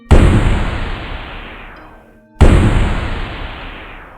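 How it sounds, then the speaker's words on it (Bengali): Two loud gunshot-like bangs in an audiobook sound effect, each a sharp blast with a long decaying tail, the second about two seconds after the first, with no talking. "পরপর দুটো গুলির আওয়াজ শোনা গেল"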